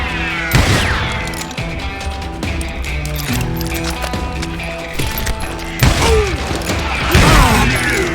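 Gunfight in the western video game Call of Juarez: Gunslinger, a dense loud stream of shots, ricochets and thuds over game music and effects, continuous and close.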